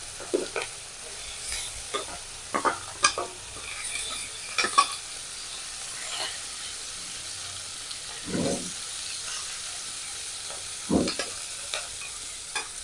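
Small puti fish fry in a pan with vegetables as a spatula stirs and scrapes, giving a soft continuous sizzle broken by irregular clinks and scraping strokes, close up, without speech.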